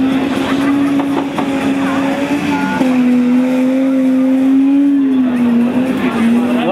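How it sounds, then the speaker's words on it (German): Group 5 series-class race cars, including a white BMW, battle on a stubble-field track at Aschen in 2011, their engines droning loud and continuous with a wavering pitch, occasional tire scrabble, and a voice faintly beneath. "Gerade in diesen Doppelkurven, wo der weiße BMW jetzt gar nicht Schwierigkeiten hat, die Spur zu halten, hat der Flori seine Chance erkannt."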